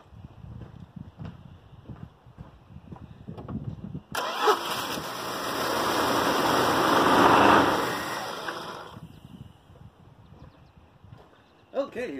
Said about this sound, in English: I pumped enough into that carburetor to get it started